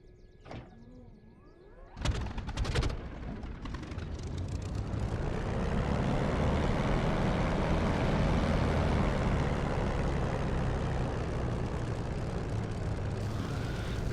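A propeller aircraft engine in a flight simulator game throttles up, a broad, steady drone that swells in after about two seconds and holds loud and even to the end, with faint clicks before it starts.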